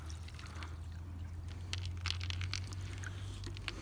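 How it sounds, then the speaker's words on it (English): Water pours into a dog bowl, a faint trickling and light splashing over a low steady hum, with no voices. "Alright, now to give her water."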